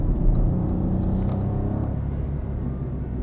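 A 2017 Kia Picanto driving through a curve, its engine and road noise giving a steady, close, continuous low rumble with no talk.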